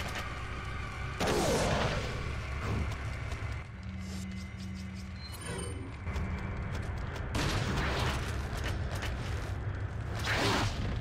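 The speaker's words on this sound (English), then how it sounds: "I guess we can throw a grenade here." Grenade thrown and exploding in the video game Resident Evil 4 HD, set in a boss fight: a few heavy, booming blasts spread across the stretch, with rumbling and mechanical game sounds between them.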